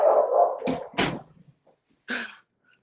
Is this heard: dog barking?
yes